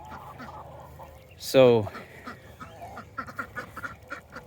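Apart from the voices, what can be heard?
ducks quacking on a farm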